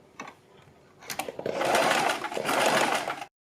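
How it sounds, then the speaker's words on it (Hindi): A sewing machine stitches fabric strips for a kurti neckline, starting with a few short bursts and then running in a loud, continuous whir close by. "देखिए दोनों पट्टियों के बराबर में मैंने सिलाई लगा ली है"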